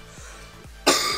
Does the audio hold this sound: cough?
yes